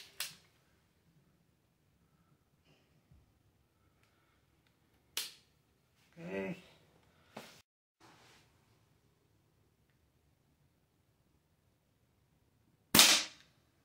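Ruger Mark IV pellet pistol fired at a target, a few sharp isolated cracks spaced seconds apart in a quiet setting, with brief faint sounds between them.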